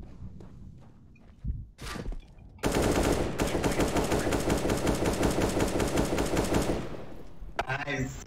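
Rapid automatic gunfire from an online video game played in a full lobby, bursting in loud and dense after a few scattered shots and thuds, then running continuously for about four seconds before cutting off.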